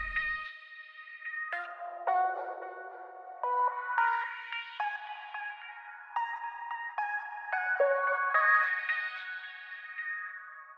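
Layered vocal chops from a bass house/lofi production, with a delayed chop echoing behind the main one: bright pitched vocal stabs stepping through a melody over about eleven seconds, trailed by repeats and reverb, with no talking.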